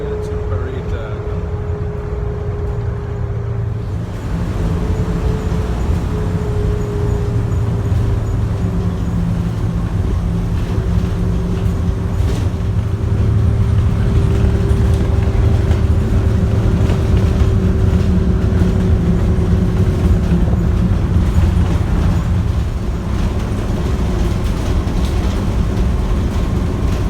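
A public bus in Costa Rica, running the Vasconia to Parita route, fills the interior with a loud, steady engine drone and low rumble that stays continuous throughout with a faint whining tone above it.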